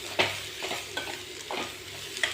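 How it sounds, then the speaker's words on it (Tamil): Fried radish and tomato are sautéed together in a pan for radish chutney. A steady sizzle carries on throughout, broken by a few spoon scrapes and stirring clicks, with no talking. "அந்த ஏற்கனவே நம்ம ஃப்ரை பண்ணி வச்சுருக்கிற முள்ளங்கி இதுலேயே கூட போட்டு சும்மா ஒரு ரெண்டு வதக்கு வதக்கிடலாம்"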